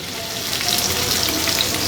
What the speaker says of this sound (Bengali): একইভাবে মাছগুলোর অপর পিঠও এভাবে ভেজে নিচ্ছি।